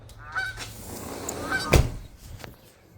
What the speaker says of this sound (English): We have a lot of geese around here.